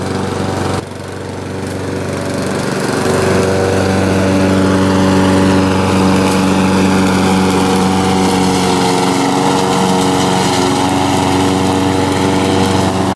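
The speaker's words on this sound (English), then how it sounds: "So we are done mowing, and Darin is now spritzing the grass" A lawn mower engine runs steadily while mowing grass in a backyard, loud and close with a constant high-pitched drone that rises slightly after a brief dip near the start.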